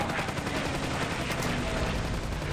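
Sustained rapid machine-gun fire from a WWII fighter plane's guns in the flight combat game Iron Wings, a dense continuous rattle over engine drone with no pauses.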